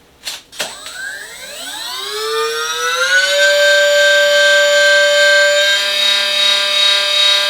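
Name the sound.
R-Snake V16PRO engine sound module revving up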